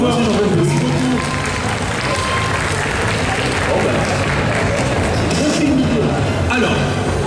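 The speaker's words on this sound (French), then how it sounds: "les applaudit bien fort" Audience at a Mangame Fréjus summer event applauds loudly and continuously, a dense wash of clapping with crowd noise and voices mixed in.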